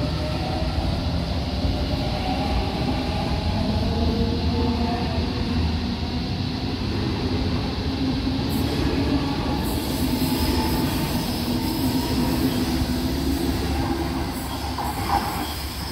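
A Sydney suburban electric train, an A-set, rolls out from a station platform at Mount Kuring-gai, a loud steady rumble of wheels and motors with faint squealing, continuous throughout.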